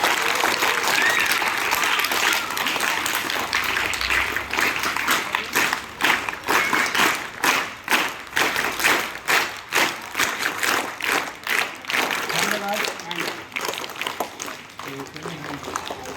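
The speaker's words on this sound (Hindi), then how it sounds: "एक बार हम लोग ताली बजाएंगे, सर के सम्मान के लिए" A group of schoolchildren clapping at a government high school Yoga Day event, loud continuous applause that turns into rapid, closely spaced claps, with voices mixed in.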